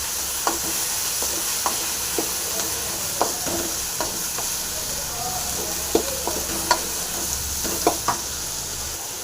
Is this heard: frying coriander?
yes